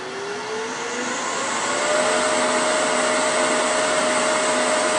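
A wood buffing system's wheel spins up toward about 3,600 RPM, a steady motor whine rising in pitch over the first two seconds and then holding at a loud, even high-speed hum with broadband airy hiss, no talking.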